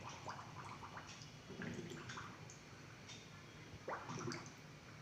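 Water gurgles into a slightly tilted empty plastic bottle as trapped air escapes in bubbles, faint glugs and drips repeating in small bursts, quiet and close with no talking.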